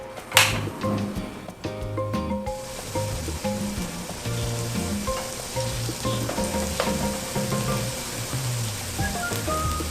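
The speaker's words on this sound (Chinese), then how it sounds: "我们就准备一个平底锅，要来煎我们的芋头，把它煎到两面金黄" Taro slices pan-frying in oil in a flat pan, a steady bright sizzle and crackle throughout, with light clatter and soft music-like tones underneath; no talking.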